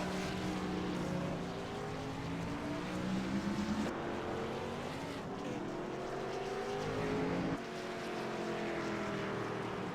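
On board car 26 in a sim racing game, a race car engine drones loudly and continuously, its pitch climbing through the gears and dropping sharply at shifts.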